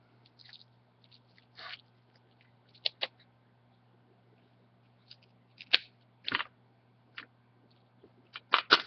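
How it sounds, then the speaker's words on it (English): Scissors snip through the rib cage of a perch during a dissection, giving a series of short, crisp crunching cuts spaced irregularly, close and fairly quiet against a steady low hum. "You can hear me cutting through that rib cage right there."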